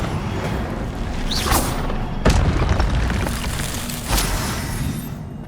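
Hogwarts Legacy spell-combat effects for the Incendio fire spell: a fiery whoosh with sharp booming impacts, one strong thud midway and another burst near the end over a noisy game backdrop.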